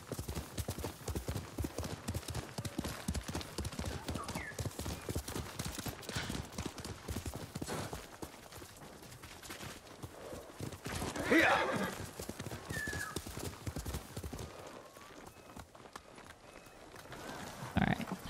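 Horse hooves clip-clop in a steady galloping rhythm in the video game Ghost of Tsushima, with a clear neigh partway through and hooves continuing close and loud throughout.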